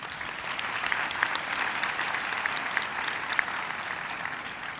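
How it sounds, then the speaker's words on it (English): An audience at a university graduation ceremony claps steadily in a large hall, a dense even patter of many hands sustained throughout without pause, moderately loud and slightly distant. "Let's give Professor Masocha a round of applause"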